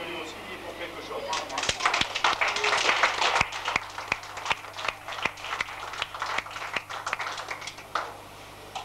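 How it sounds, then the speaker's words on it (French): An audience claps together in a burst of applause at a community gathering, with sharp scattered claps standing out near the end and voices talking over it. "vous pouvez quand même l'applaudir, parce que lui aussi, il est pour quelque chose"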